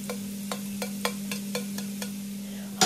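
Grated carrots frying in oil in a wide pan, a steady sizzle under a steady low hum, broken by regular spoon scrapes roughly twice a second and a louder clatter at the end; close, no speech.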